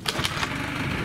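Small scooter engine running after alcohol is sprayed into its air filter, a brief buzzing note with a few quick rev bursts at the start, then settling into a steady hum.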